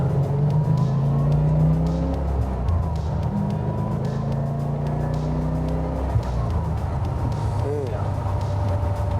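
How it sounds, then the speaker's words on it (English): A 1989 C4 Corvette's V8 revs and accelerates with a deep, throaty drone, its pitch rising and falling across several pulls, loud and close throughout. "It's got a great throaty sound to it. It's a classic American V8 sound."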